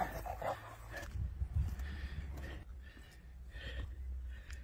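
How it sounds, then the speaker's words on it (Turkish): Dogs play in the snow of a cherry orchard in winter, giving a few yips and whimpers at moderate distance over a faint outdoor background. "Öyle hoşuna gidiyor ki karda oyun oynamak köpeklerin."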